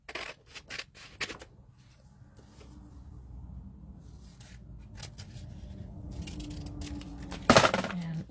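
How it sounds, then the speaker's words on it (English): Scissors cutting out a paper piece for a junk journal, a few crisp snips up close followed by soft paper rustling and handling, ending with a sharper rustle. "Alright, we're just going to cut one of these out."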